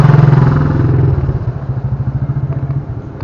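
Motorcycle engine revs loudly close by, then settles into a rapid, rhythmic idling putter with some clatter, heard alone without voices.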